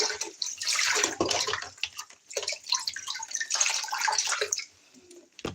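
Water splashes and runs steadily as baby dolls get a shower and their pacifiers are washed, a close, continuous sloshing with drips and brief lulls.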